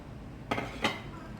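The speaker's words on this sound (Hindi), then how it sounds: "अब हम इसमें सेवइयाँ ऐड कर देंगे" A couple of quick metallic clinks of a utensil against a pan as vermicelli is added to ghee, close and brief over a quiet background.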